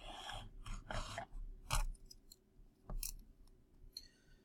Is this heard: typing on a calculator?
yes